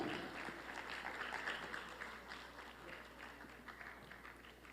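An audience at a conference session in a hotel ballroom claps steadily, a dense spread of overlapping handclaps at moderate distance that gradually thins toward the end.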